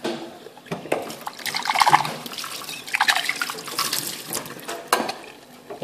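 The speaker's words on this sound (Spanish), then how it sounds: "Como ven el chorro de agua" Water streams from a tap in uneven gushes and splashes, rising and falling over several seconds with no talk.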